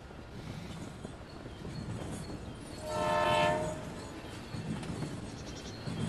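A train passes in the Bus Simulator video game, with a steady rail rumble and a brief horn blast in the middle, heard faintly at a distance under general game ambience.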